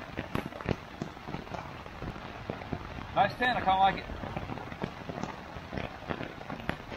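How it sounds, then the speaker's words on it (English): Rain patters steadily on the fly of a Sierra Designs Full Moon 2 tent during a thunderstorm camp, a dense close tapping of scattered drops while someone talks briefly partway through. "Still raining pretty good."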